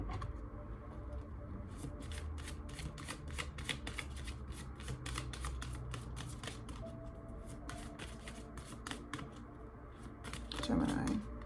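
Oracle cards are shuffled close by in a steady run of soft, rapid riffling flutters lasting several seconds, quiet and alone, with a brief rustle near the end.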